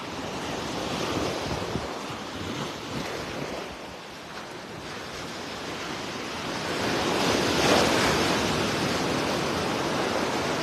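Waves washing onto a beach at daybreak in North Naples, Florida, a soft, continuous surf hiss that swells and recedes, with a little wind noise and no talk.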